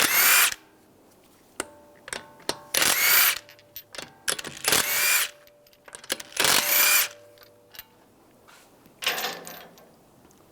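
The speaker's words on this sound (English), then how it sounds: "Take the lug bolts out." Impact wrench on a 19mm socket removing lug bolts from the front wheel of a 2013-2016 Dodge Dart, with several loud bursts of whirring and rattling split by brief pauses and clinks of handling, no talk.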